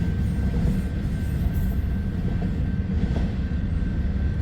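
A freight train with KCS railcars rolls past in a steady, loud rumble that stays unbroken throughout, with faint rhythmic wheel clatter and no voices.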